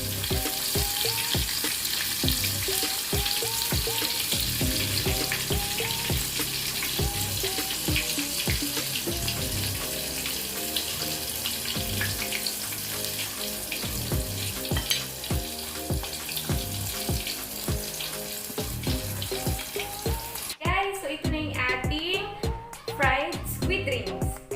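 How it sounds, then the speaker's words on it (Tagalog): Squid rings deep-frying in hot oil give a constant bubbling sizzle under a loud backing of music with rhythmic beats, and the texture changes sharply near the end. "pag golden brown na yung ating squid rings, ibig sabihin, luto na siya"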